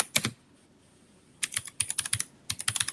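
Keys clattering on a computer keyboard, with one short tap early on and then bursts of quick, uneven keystrokes, fairly close and clear with no voices.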